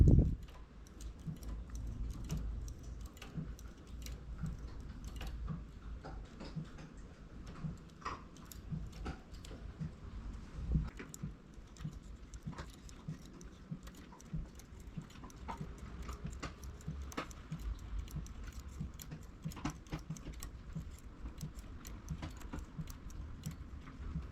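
A steady run of small metallic clicks and ticks, like a machine mechanism working stitch by stitch, fairly faint with a low background hum.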